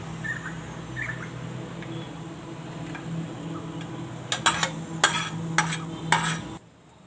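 Cashews roasting in a pan for tomato bhajiya are scraped and stirred with a spoon, giving a steady low sizzle and then a cluster of sharp, loud scraping clacks near the end before a sudden cut to silence.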